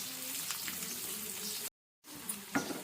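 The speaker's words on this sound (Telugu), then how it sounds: "ఇప్పుడు మనము ఈ ఆనియన్ వేసి మొత్తం లైట్ బ్రౌన్ కలర్ వచ్చే వరకు ఇలాగా" Chopped onions frying in melted butter in a pan, a steady broadband sizzle with faint stirring clicks, briefly cut out by a short gap of silence before the frying resumes.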